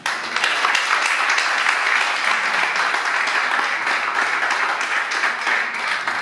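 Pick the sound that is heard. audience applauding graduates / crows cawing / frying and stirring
audience applauding graduates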